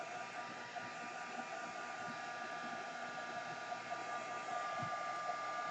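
A hair dryer blows steadily across a mixed-media canvas to dry paint, producing a continuous, fairly quiet whooshing hum with a faint whine and no talking.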